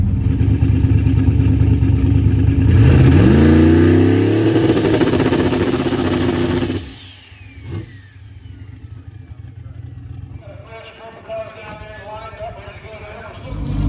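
A drag race car engine roars loudly during a two-step launch control check, holding a harsh rev and bouncing before cutting off abruptly, then leaving quieter background noise and faint clatter.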